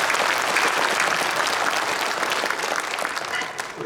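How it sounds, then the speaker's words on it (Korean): A congregation at an Easter dawn joint worship service in Incheon applauds together, a dense, steady wash of clapping that holds evenly for a few seconds before easing slightly. "우리 모두 함께 박수하시겠습니다"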